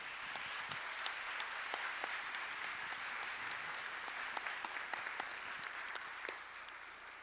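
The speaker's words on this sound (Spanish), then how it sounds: "pidiéndoles a ustedes un fuerte aplauso" Sustained applause from a large conference audience, dense and steady with individual claps popping out, continuing without pause throughout.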